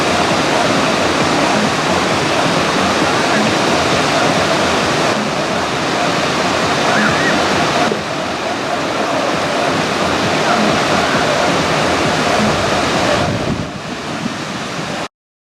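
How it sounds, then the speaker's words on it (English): Water pours from a pipe back into a creek, a loud, steady roaring rush heard close up with some wind buffeting on the microphone. "Pipe to put water into back into the creek, I think."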